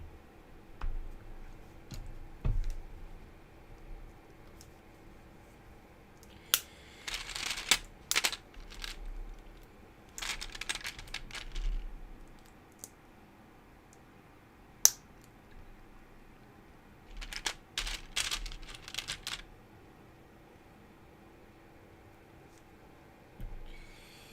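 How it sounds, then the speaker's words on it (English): LEGO bricks click together during a build of the Jazz Quartet set, scattered bursts of small plastic clicks and snaps at fairly close range against a quiet background, with pauses between clusters. "sounds like of bricks clicking"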